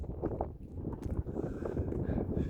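Wind blows across the misty, rainy Bukhansan Yeongbong summit, buffeting the microphone with a loud, gusty low rumble that stays steady throughout.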